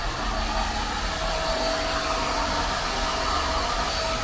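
A hair dryer blowing at the roots of short permed hair, a steady, close, unbroken rushing whoosh with no talking.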